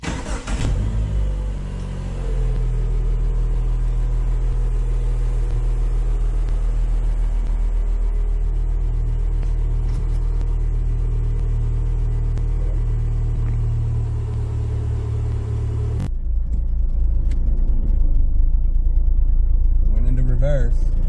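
A Chrysler PT Cruiser engine starts and runs during a test drive, a steady low drone heard from inside the car that shifts sharply near the end as the car moves off.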